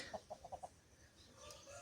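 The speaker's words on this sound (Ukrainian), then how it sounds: "О, бігає сусідський півник." A neighbour's rooster gives five quick soft clucks in a row, close but faint, followed by quiet outdoor background on a small farm with chickens after rain.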